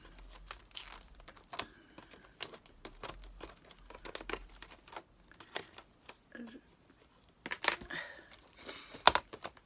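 Small scissors snip and crinkle open the packaging of a metal watercolor box, scattered close cuts, rustles and taps at a quiet level with brief pauses and a cluster of sharper crackles near the end.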